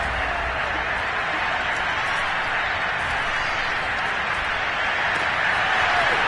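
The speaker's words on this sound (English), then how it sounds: "the crowd getting into it as we come up on a big 3rd down" Crowd noise from a Madden football video game, a steady broad roar building as the stadium gets loud ahead of a big third down, continuous and dense throughout with no clear talk.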